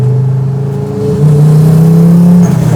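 Fiat Coupe race car accelerating with its engine revving, a loud steady mid-pitched drone that climbs in pitch and holds close, with no voices.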